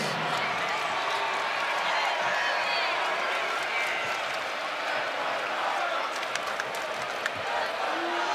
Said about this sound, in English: And another round of applause for Cooper Josephsberg alongside the miss.